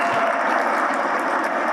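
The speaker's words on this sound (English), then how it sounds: "How about a round of applause for Rohan?" Audience applause at an awards dinner for outstanding Asian Americans in business, a dense, steady clapping from a large crowd that stays even in loudness throughout.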